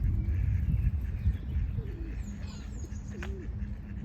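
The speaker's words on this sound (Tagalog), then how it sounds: "Mga kalapati." Pigeons in a park give a few soft, low coos against steady outdoor background noise, with faint chirps from other birds nearby.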